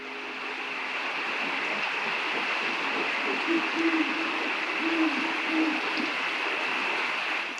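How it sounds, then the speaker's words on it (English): An owl hoots a few low, soft calls at night in the desert of the Gila National Forest, somewhat distant, over a steady hiss of background noise. "There's an owl over there."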